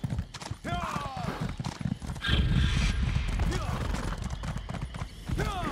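Horse hooves clip-clop at a gallop with a short whinny in Elder Scrolls Online: Blackwood, a game mount charging into a wall, while someone talks over the steady, close hoofbeats.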